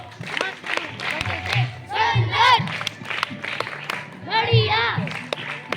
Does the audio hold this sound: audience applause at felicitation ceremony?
yes